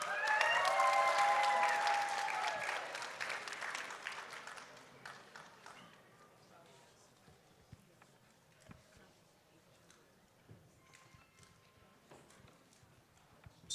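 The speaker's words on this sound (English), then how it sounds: "Can we get a round of applause for them?" Audience applause for presenters at a business event, loud and dense for about four seconds, then thinning out to scattered claps and faint room noise.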